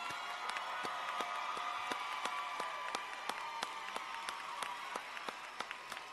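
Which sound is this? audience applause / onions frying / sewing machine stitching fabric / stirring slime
audience applause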